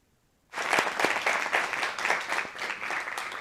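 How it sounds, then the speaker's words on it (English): Audience applause breaks out abruptly after a university geology talk, a dense, steady wash of many hands clapping at close range, holding strong to the end with no voices over it. "Let's have a round of applause."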